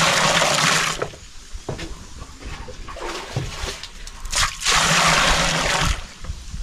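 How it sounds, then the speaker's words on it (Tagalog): Water for farm animals gushing out, probably into a basin, loud and continuous at first, then easing to a softer flow in the middle before surging strongly again near the end, with no talking. "Yung tubig oh."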